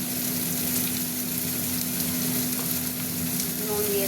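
Pointed gourd and potato fry in a pan with turmeric, chilli powder and salt, giving a loud, continuous close-up sizzle with soft stirring scrapes and no talking.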